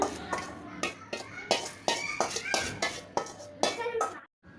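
Dishes, pots and bowls being washed in a home kitchen: a series of sharp clinks and clatters of metal and ceramic knocking together, close and irregular, with quiet background noise.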